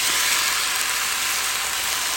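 A can of diced Italian tomatoes hitting a hot pan for pasta primavera, producing a bright, even hissing sizzle that holds steady and loud throughout.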